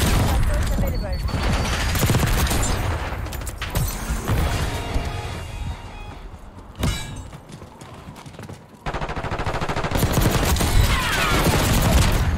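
Rapid, loud gunfire exchanges in Black Ops 6 online multiplayer, with dense overlapping shots and mechanical clatter running almost continuously, only briefly thinning out.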